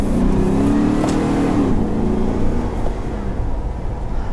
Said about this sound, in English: If you can ever drive a cab over truck